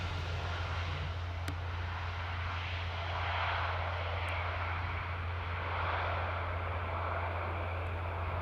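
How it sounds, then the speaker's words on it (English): An Embraer E2 jet airliner on a long takeoff roll at Amsterdam Airport, its engines a steady broad roar at a distance that swells and fades slightly, with a constant low hum beneath and no talk. "That's a long takeoff roll for an E2."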